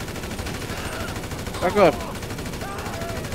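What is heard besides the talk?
gunfire in the video game GTA V Online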